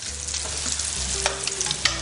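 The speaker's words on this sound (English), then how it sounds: "I just have to hear a potato sizzling in the pan and I start to salivate." Roast potatoes sizzling in a hot pan with the oven on max: a close, steady frying hiss with scattered crackles and small pops, plus a low background hum and no speech.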